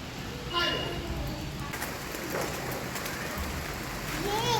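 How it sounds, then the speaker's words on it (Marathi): Heavy rain falling outdoors in a village yard makes a steady, dense hiss throughout, while someone talks over it nearby. "आता जोरात पाऊस चालू झालेला आहे"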